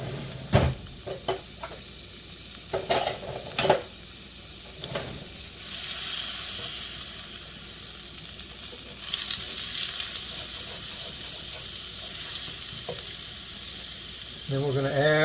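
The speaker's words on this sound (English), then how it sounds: "add a little bit more olive oil in there, and some more butter" Butter and olive oil sizzle in a pan for chicken marsala, a steady close frying hiss that swells louder midway, with a few clanks and taps early on.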